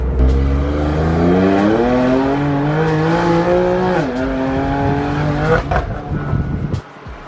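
A BMW M4 revs hard and loud up close, the engine note climbing through several gear changes with crackling exhaust pops on lift-off and shifts, then cutting off abruptly near the end.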